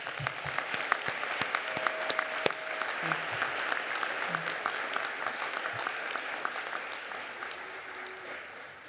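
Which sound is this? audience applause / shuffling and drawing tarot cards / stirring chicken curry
audience applause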